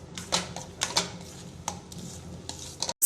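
A spoon or spatula stirs bread halwa with ghee and cardamom in a pan, giving scattered scraping clicks and taps against the metal over a soft background, a few louder knocks among them.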